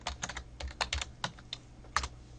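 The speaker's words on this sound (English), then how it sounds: "typing my password" Someone types a password on a computer keyboard, a quick, irregular run of about a dozen light key clicks, close and clear in a quiet room.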